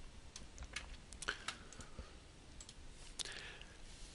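Computer mouse clicking while navigating a website admin panel: a scattered series of faint, sharp clicks at irregular intervals, heard alone in a quiet room.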